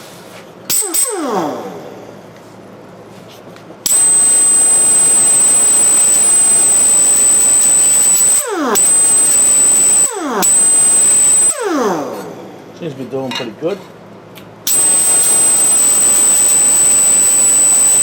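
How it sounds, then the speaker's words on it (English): A high-pitched abrasive whine of a sanding disc grinding metal patch panels on a Ford F100 runs in long bursts, with spin-up and spin-down sweeps between passes; a brief remark is spoken. "let's try a sanded disc and see how that goes"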